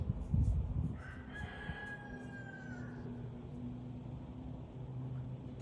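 A rooster crows once in a drawn-out call at moderate distance, over a steady low hum, after a brief bump of noise at the start.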